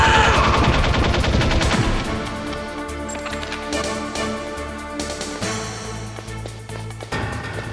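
Bursts of rapid gunfire in the video game Metal Gear Solid, loud automatic rattling at the start followed by further clustered shots over a steady game background, with no talk.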